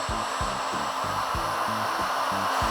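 A Dnipro-M industrial heat gun runs steadily at its second speed setting, a loud continuous fan whir and airflow hiss with a low rhythmic pulsing underneath.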